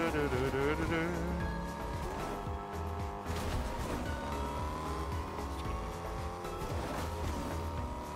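A car driving in Fortnite Zero Build, its engine droning steadily and rising and falling in pitch as it moves, with voices talking over it.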